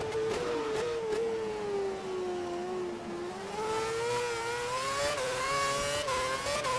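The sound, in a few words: F1 race car approaching from behind in F1 2011 video game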